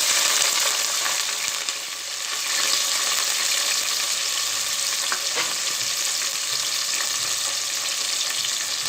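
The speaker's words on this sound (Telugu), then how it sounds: "అవి నూనెలో వేగుతున్నప్పుడే" Whole garam masala spices frying in hot oil for an egg biryani, a steady dense crackling sizzle that holds at an even, fairly loud level throughout, with a few faint clicks and no talking.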